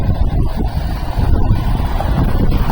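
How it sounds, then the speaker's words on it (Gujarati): Strong wind rushes past on a roadside, a loud, steady, close roar buffeting the microphone. "એસી જેવો પવન આવે, મજા લેવા કરે."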